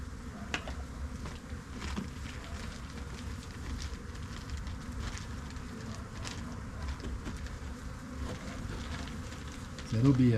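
Honey bees buzz steadily around a hive that has swarmed, a dense continuous hum close by, with a louder burst right at the end.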